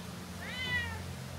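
A single cat meows once, a rising-then-falling tonal call that is clear and fairly close, set against a low steady background hum in a home where many cats live.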